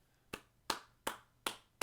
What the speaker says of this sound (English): let's go ahead and clap our hands